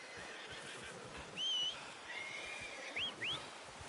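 A horse in the video game Red Dead Redemption 2 whinnies in a few short, high, wavering squeals over a quiet, steady background hum.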